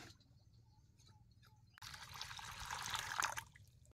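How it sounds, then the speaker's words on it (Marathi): Cold water pours onto boiled eggs in a pot during rustic village cooking, a steady splashing gush that starts suddenly midway and swells louder, following a quieter stretch of faint dribbling. "आता ह्याच्यात जरा गार पाणी वाटायचं म्हणजे अंडी गार होत्यात लवकर"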